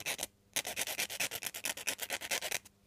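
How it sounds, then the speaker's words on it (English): A file rasps against the end of a thin metal wire for a 1:18 scale model roll cage, quick close rhythmic strokes in a steady run of about twenty, with a brief pause after the first stroke. "the wire a bit of a scruff up with the file just to soften it up"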